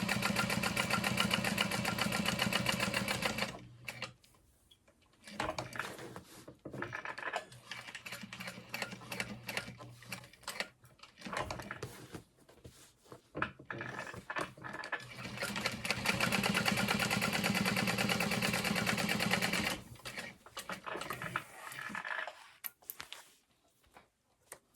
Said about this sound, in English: I might end up sewing a center line just down the middle to kind of stabilize it even more